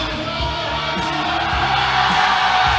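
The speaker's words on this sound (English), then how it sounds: "The audience is yelling Ashton" Powerlifting meet audience in Virginia yelling and whooping for the lifter on the platform, a loud continuous crowd roar with overlapping shouts that swells toward the end.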